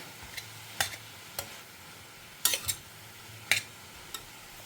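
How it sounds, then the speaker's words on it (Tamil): Carrots sautéing in a pan, a soft low sizzle broken by several sharp scrapes and clicks of a utensil stirring at irregular intervals, close and fairly quiet with no talking. "இது இன்னொரு ரெண்டு நிமிஷம் வதங்கி எடுத்துனாக்கா நமக்கு கேரட் வதக்கல் ரெடி ஆகிடும்"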